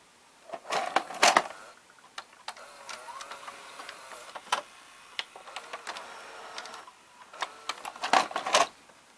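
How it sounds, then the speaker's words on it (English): The loading motor and belt of a Mitsubishi HS-U590 VCR whir quietly up close, broken by a series of sharp mechanical clicks and ticks at irregular intervals. "Let's just show you the loading motor."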